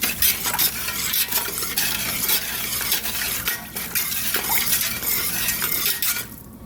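A spoon stirs ham brine with seeds in a pot on the stove, giving a steady, close scraping and swishing with light clinks that continues throughout before dropping away at the end.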